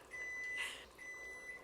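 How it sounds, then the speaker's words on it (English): Kitchen timer beeping during soup cooking, two faint sustained electronic tones separated by a short pause, heard without talk in a quiet room. "And there's my timer. It is finished."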